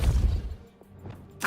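A Depulso spell cast in Hogwarts Legacy, heard as a quick thwack and whoosh, with a brief crashing impact close up.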